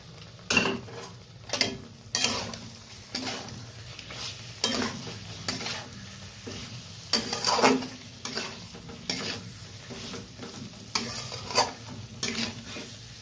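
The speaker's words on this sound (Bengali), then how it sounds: "তো ভেজে রাখার ফুলকপিগুলো দিয়ে দেব" Fried cauliflower tossed into a pan and stirred, giving a string of close scraping and clinking strokes at an uneven rhythm over a steady low sizzle.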